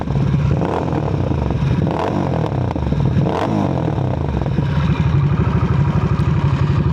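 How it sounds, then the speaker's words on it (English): A Harley-Davidson Nightster 975 motorcycle running without its silencer is revved several times, loud close surges rising above a throbbing idle. "Couple of revs."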